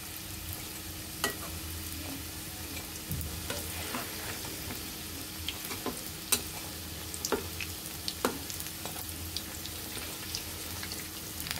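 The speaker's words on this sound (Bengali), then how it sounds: "চুলার আঁচটা মিডিয়াম টু লোতে রেখে ভেজে নিতে হবে।" Rolls made from flour and potato frying in oil over medium-low heat, giving a steady soft sizzle with scattered sharp pops and crackles throughout, fairly quiet and close, with no talking.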